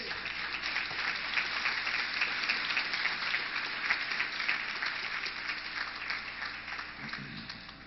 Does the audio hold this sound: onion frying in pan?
no